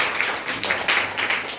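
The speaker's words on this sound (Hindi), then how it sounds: "सबसे पहले तो तालियां बजाओ" Children clap together in a Hindi classroom during a word-meaning competition, a short burst of quick, fairly soft claps lasting about a second and a half.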